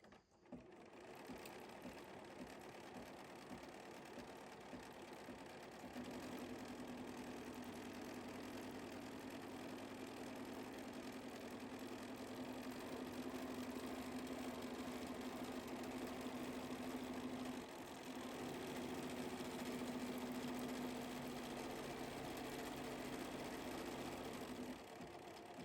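A sewing machine stitches a foundation paper-pieced quilt unit in a long, steady mechanical whir with an even tone and a short pause near the end.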